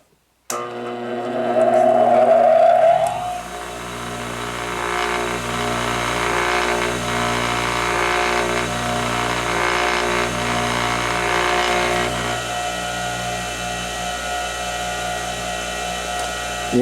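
A Metabo DS150 bench grinder clicks on and spins up with a rising whine, then settles into a steady hum with a pulsing vibration from the wobbly bench under it, close and continuous throughout.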